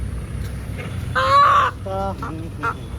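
A live desi chicken with its wings and legs tied gives a few loud, nasal squawking calls close by, in two short bursts over low background noise.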